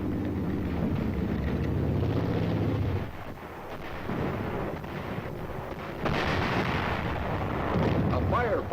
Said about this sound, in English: A firefight begins.